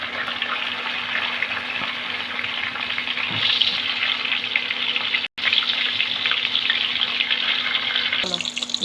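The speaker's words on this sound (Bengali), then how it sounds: "মাছের ভুনা করবো, তাই মাছটাকে ভেজে নেব।" Fish sizzles steadily in hot oil in a home kitchen, prepared for a spicy fish curry, giving a dense, continuous crackling and spitting that stays loud and close for several seconds.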